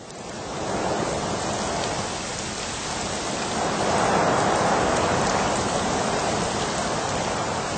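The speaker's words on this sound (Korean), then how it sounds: "갑자기 큰 바람이 산정을 휩쓸면서 빗방울이 떨어졌다" Wind and rain effect for a Korean radio drama set on a mountain peak, a dense, steady hiss of heavy downpour and gusting wind that swells louder midway and continues alone with no voices.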